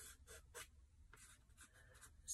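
An HB pencil drawing lines on paper, close and quiet, in several short scratchy bursts of strokes separated by brief pauses.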